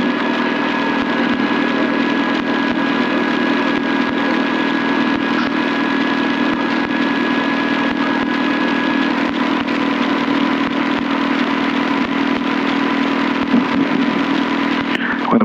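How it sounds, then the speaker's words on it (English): A Robinson R22 helicopter sits on the ground after landing as its rotor blades slow down, giving a loud, steady engine and rotor drone with a thin whining tone that fades partway through, in brisk wind. "I'm coming slightly to the right as the blades are slowing down"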